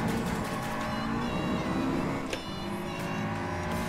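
Honda S2000 in the video game GT Sport, its high-pitched engine revving toward 9000 rpm with a sharp, motorcycle-like whine, steady and loud, with a brief tire squeal near the middle.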